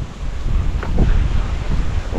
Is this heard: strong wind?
yes